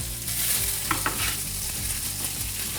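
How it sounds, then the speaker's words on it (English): Chopped potatoes and tomatoes cooking in a pan give off a steady, close sizzle, with a few soft stirring scrapes and no voices. "So as you can see now, this is cooking."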